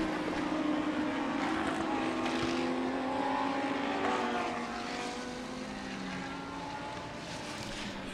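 Bentley race car circling a track during a TSS 2018 race, a steady loud engine drone with rising and falling tones that eases slightly after midway, with no talk.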